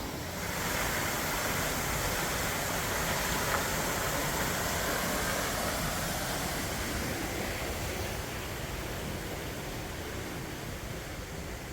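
Eagle Falls in McCreary County, Kentucky, and its river give off a constant broadband rush of falling and flowing water on a quiet morning, steady and enveloping, with no voices.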